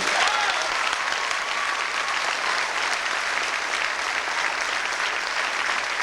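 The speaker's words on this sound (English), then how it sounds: "Could you please give my cousin Lynn Sprague a round of applause also?" A crowd at a 1987 high school senior night claps in full, even applause that continues for several seconds without easing. No speech is heard.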